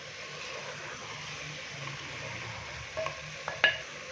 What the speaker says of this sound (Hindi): तो अभी हम इसको इसी तरह से भूनेंगे 3 से 4 मिनट के लिए